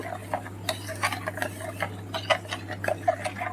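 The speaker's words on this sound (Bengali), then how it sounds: "এবার ভালো করে জলের সাথে এটা মিশিয়ে নেব" Spoon stirring salt and sugar into water in a container, a string of light clinks and taps at an irregular pace over a steady low hum, close and fairly quiet, with no voices.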